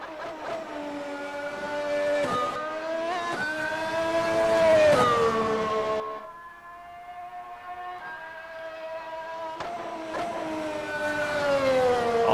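A car engine revs hard with the throttle open, its pitch climbing through two strong accelerating surges, easing into a quieter lull before building loudly again, close and continuous.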